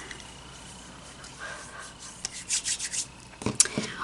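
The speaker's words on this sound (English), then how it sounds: "So I'm just going to rub that all over my face." Tatcha water cream being rubbed over the face by hand while doing everyday makeup, a soft close rasping friction that comes in short bursts, strongest near the end, with no talking.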